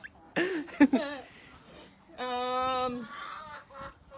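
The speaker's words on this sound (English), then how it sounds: "The chickens at our feet here are the red sex lynx." Red Sex Link chickens cluck in short bursts, followed by a longer drawn-out squawk, close by in a quiet outdoor setting.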